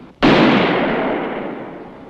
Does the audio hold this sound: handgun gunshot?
yes